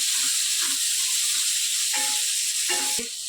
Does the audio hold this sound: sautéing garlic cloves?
yes